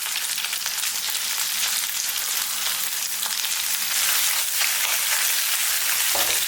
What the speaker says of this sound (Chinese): 接着再把鱼块给它下入锅中，开中小火慢煎